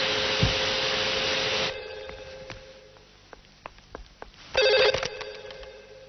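A telephone rings indoors with a loud, buzzy electronic trill in two bursts separated by a quieter gap of clicks and thumps; close and without talk.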